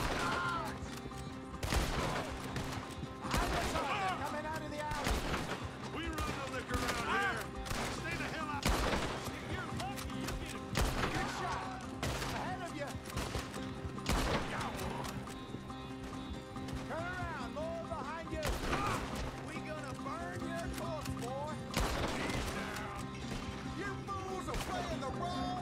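Repeated gunshots crack through a Red Dead Redemption 2 firefight while horses clop along, with sharp bursts spread over the whole stretch and characters talking in between.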